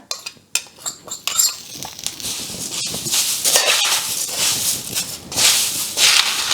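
A spoon scrapes and clinks against a pan while fried chivda ingredients are spooned onto poha, giving irregular metallic taps and rustling stirs that build into louder, denser scraping bursts.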